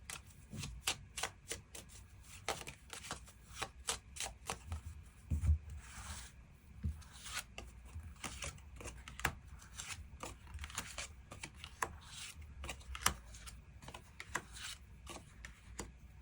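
Tarot cards are shuffled and drawn during a weekly reading, with a dense run of quick riffling flicks and soft slides of card stock, close and fairly quiet, going on with little pause.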